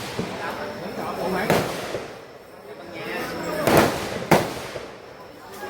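Firecrackers bursting outdoors in Ho Chi Minh City, Vietnam, heard as a few sharp, loud cracks spaced apart over a steady background hum of the surroundings.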